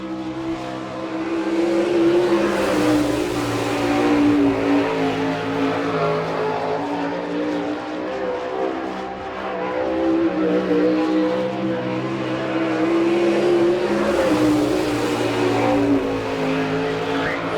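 A sprint car on a Maxim chassis, driven by Jim Neer, roars around an oval dirt track at an All Star Circuit of Champions race in Chillicothe, Ohio, the loud engine rising and falling steadily as it laps.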